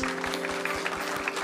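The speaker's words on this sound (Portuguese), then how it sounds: "Uma salva de palmas." A church congregation claps during a Portuguese-language worship service right after a baptism. The applause is soft and distant, a brief patter of many hands.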